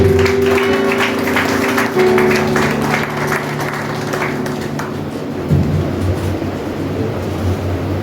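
A church congregation claps and cheers in praise, a sustained burst of applause that gradually fades, with organ-like sustained tones underneath at the start.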